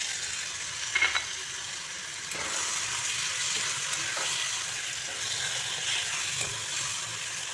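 Chopped tomatoes drop into a hot pan of sautéed spices for Bengali aloo dum, bringing a steady broadband sizzle with a few clinks and small bursts near the start, continuous and fairly close, with no talking.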